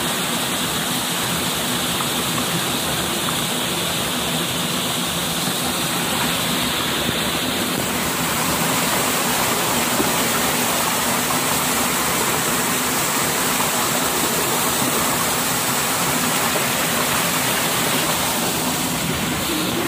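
A forest waterfall, water dropping from high upstream onto rocks, gives a steady, loud, unbroken roar of falling water that holds for the full stretch without any voices.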